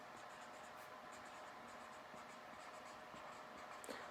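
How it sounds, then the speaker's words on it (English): Pen or marker scratching steadily across paper as a word is written by hand, soft and close, with short strokes and pauses and no voices. "I can write one up here."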